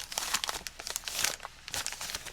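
Plastic packaging of a Chinese PLA Type 20 B self-heated single-meal ration crinkles and crackles as it is folded over, a close, quiet series of quick rustling bursts.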